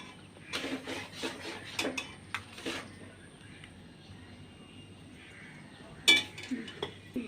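A utensil stirs pumpkin halwa with powdered milk, cardamom and cinnamon in a pan, giving a burst of quick scraping and clinking strokes, then a quiet pause before another sharp clink and a few scrapes.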